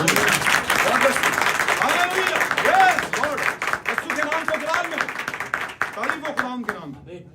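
A church congregation claps together in a sustained round of applause, fairly loud at first and gradually thinning out, with voices speaking and calling over the clapping.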